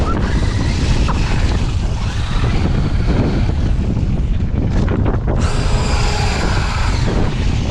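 Wind buffets a microphone outdoors at a Traxxas UDR RC car bowling session, a loud, constant roaring rumble that swamps everything else for the whole stretch.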